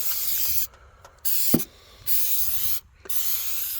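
Short hissing bursts of spray come from a sprayer applying a coating into the cracks of treated lumber outdoors. There are four or five spurts separated by quiet pauses, with a faint knock partway through.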